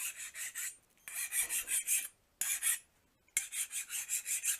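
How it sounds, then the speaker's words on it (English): A steel file rasps across a hardened 1084/15N20 Damascus steel knife blade, skating without cutting, in four bursts of quick rhythmic strokes separated by short pauses, close and clear with no talk. "That file's not cutting. Just skating right across it."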